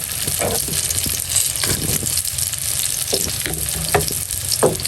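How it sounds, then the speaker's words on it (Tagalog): Lumpiang Shanghai spring rolls frying in hot oil, eight pieces in the pan, give a loud, steady close-up sizzle with occasional pops and stirring scrapes, no voices. "Tapos ito po yung ating lumpiang Shanghai. Pwede nang magprito."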